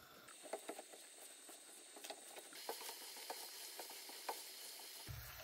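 Sweet potato candy stirred in a pan as the sugar melts, with a soft continuous sizzle and repeated scraping strokes of the spoon, quiet and close with no talking.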